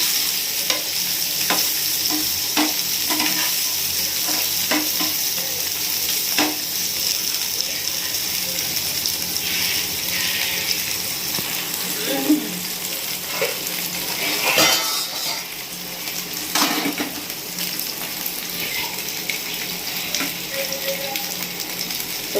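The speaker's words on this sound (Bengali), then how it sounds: "পনির ভাজা হয়ে গেছে" Pieces of paneer fry in hot oil in a pan, a continuous sizzle broken by repeated scrapes and metallic clinks as a utensil stirs and turns them, close up, with no voices.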